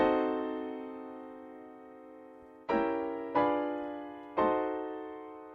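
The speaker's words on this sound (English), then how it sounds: "And diminished 7 sounds like this." A sustained diminished seventh chord rings and slowly fades, then is struck again three more times in quick succession, each decaying gently. Tense, unresolved harmony, quiet and close.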